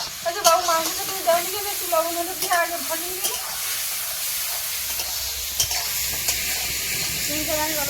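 Potatoes fry and sizzle in a pan for chicken curry, a steady hiss with scraping stirs, while people talk over it during the first half.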